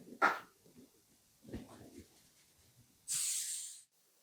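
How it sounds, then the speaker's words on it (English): Non-stick cooking spray hisses onto a cookie sheet in one steady burst of about a second, loud and close, after some faint handling noises. "spray your cookie sheet with non-stick cooking spray"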